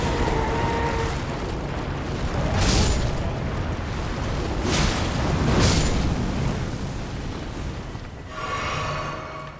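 Bursts of putrid corpses exploding in Elden Ring: several loud booms at roughly two-second intervals, set against a dense, rumbling game soundscape with no talking.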